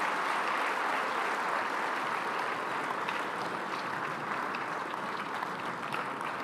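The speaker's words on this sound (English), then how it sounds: "Here's a big round of applause." At the opening ceremony of a fintech forum in Kigali, an audience applauds the presidents with a sustained, uniform wash of clapping that fills a large hall at steady volume.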